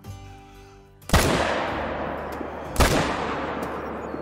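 Two loud rifle shots at bucks in the hunting video game Call of the Wild, about 280 yards off, each a sharp blast followed by a long rolling echo, spaced under two seconds apart.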